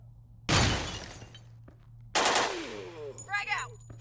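Two loud bursts of gunfire ring out close by in the Door Kickers 2 video game, each decaying over about a second, followed by a shorter cluster of sharp impacts.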